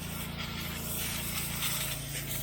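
A garden hose sprays water across a driveway being cleaned, giving a steady, close broadband hiss that runs unbroken for the whole stretch without pause.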